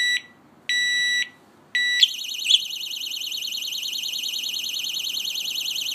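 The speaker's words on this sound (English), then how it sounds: "if somebody moves the lock, the alarm will be triggered and ring for 12 seconds." Kovix disc lock alarm set off by movement: two short loud electronic beeps, then a continuous warbling siren that rises and falls steadily, close and shrill, with no voices.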